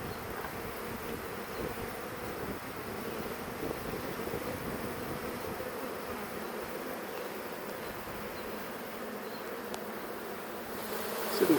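A swarm of honey bees hums with a dense, steady buzz while being scooped by hand into a box outdoors. The drone stays constant and fairly soft throughout, with no talking.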